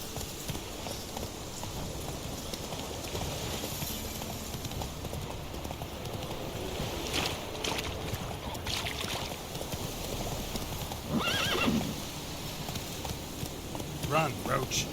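The horse Roach gallops in The Witcher 3 with rapid, steady clip-clopping hoofbeats and wind rushing past, while a voice talks over it.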